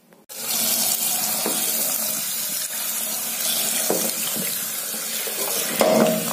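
Tap water runs steadily into a bathtub, a continuous close splashing stream that starts abruptly and carries on throughout, with faint knocks and movement mixed in.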